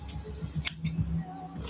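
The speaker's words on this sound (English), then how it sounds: "Just going to give this a bit of a trim so it doesn't get in the way" Scissors trimming fluffy material for a handmade medieval-style cat, giving a few quiet, close snips spaced out over a soft background hum.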